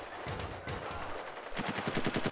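Assault rifle fire in the multiplayer mode of the video game Spec Ops: The Line, with dense rapid bursts throughout and a crisp run of evenly spaced shots toward the end, loud and close.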